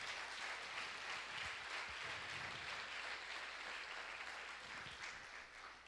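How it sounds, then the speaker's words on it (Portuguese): Sustained applause from a church congregation during a worship service, a steady dense wash of clapping that holds for about six seconds and eases slightly at the end, with no speech over it. "Uma salva de palmas para o Senhor."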